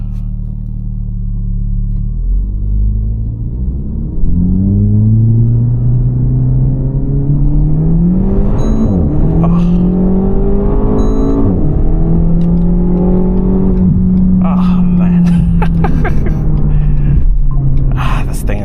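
A 2024 Renault Megane RS 300 Trophy hot hatch (300 hp) revs and accelerates hard from a traffic light, pitch climbing through the gears with a loud, sustained droning roar, heard from inside the car.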